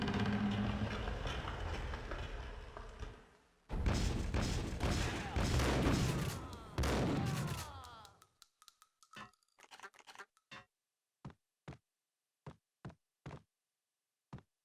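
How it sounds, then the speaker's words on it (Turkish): Fireworks in the Max Payne video game: a few seconds of dense, roaring crackle, then a run of sharp, separate pops and bangs that fire one by one and spread further apart toward the end. "Şu havai fişek şeyleri çok iyi."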